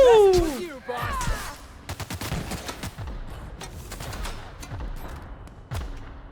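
Video game gunfire rattles in rapid bursts and single shots across the whole stretch, mixed with game effects and a voice speaking over the action.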